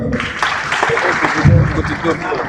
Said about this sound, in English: Another round of applause to him